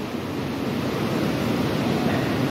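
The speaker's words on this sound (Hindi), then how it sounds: "ये डायरेक्ट नहर से पानी आके पार्टीशन हो रहा है" Canal water pours straight into a partition chamber at a water treatment plant, making a steady, loud, close rush of churning flow with no pauses.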